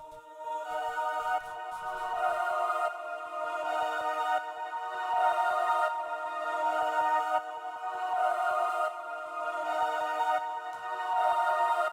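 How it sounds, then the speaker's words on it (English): Layered choir presets from Omnisphere run through a sidechain-style volume gate in FL Studio, sustained vocal chords that swell and duck in a pumping rhythm, steady and alone without talk. "So the layered choirs together now sound like this."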